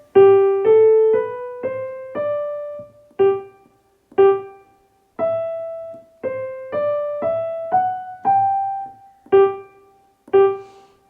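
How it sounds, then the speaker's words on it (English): Minuet in G first line played on piano at a medium-loud level, clear single notes and short phrases in a steady rhythm with brief pauses between groups, alone and close. "So this first line of music would sound like this."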